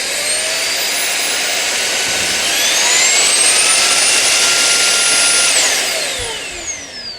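Roidmi F8 cordless stick vacuum cleaner running after a battery replacement, a loud steady high-pitched whine whose pitch rises mid-way and then winds down at the end, close up.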